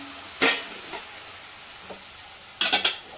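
Cabbage tossed into a pan of cooked chili powder gives a soft sizzle, punctuated by a few clanking stirs of a spoon against the pan, close and fairly quiet.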